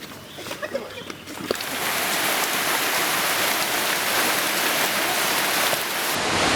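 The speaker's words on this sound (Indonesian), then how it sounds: "Hujannya deras banget ya." Heavy tropical rain pours down outdoors in Indonesia, starting with a few scattered knocks before the downpour swells into a dense, loud, continuous hiss that fills the scene with no talking.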